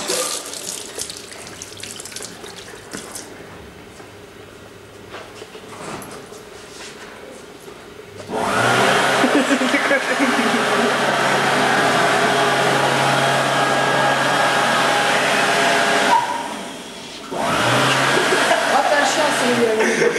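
A machine runs at a recycling sorting centre, starting as a low hum with faint clatter, then a loud steady rushing roar that briefly drops and resumes.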